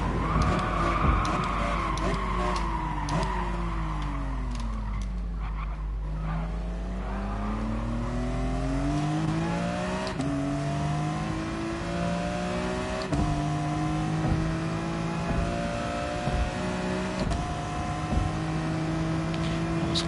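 A car in a PS4 racing game drives steadily, with its engine note rising and falling through gear changes and slowing as it brakes. The tone is continuous and loud, with faint clicks and tire noise and no talking.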